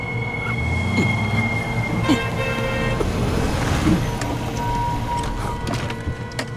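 Steady road traffic rumbles in a dense continuous wash of engines and tyre noise, with a brief louder swell as a vehicle passes close, no voices heard.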